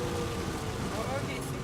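Steady rain patters continuously, a dense hiss of drops on a surface close by, with no voices.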